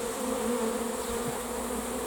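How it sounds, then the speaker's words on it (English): A dense, steady drone of a large honeybee swarm buzzing continuously at close range, with no other sounds. "we've got a swarm here, and then just over here we have another swarm."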